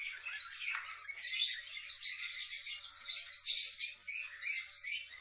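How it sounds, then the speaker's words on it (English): Parakeets in a pet shop chirp and twitter continuously, a dense overlapping chorus of small high bird calls close by with no talking. "I think those are parakeets."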